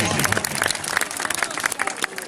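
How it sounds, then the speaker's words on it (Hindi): Brief burst of crowd applause at an outdoor tournament after a prize announcement, scattered claps under a loud announcer's voice. "जोरदार ताली होनी चाहिए"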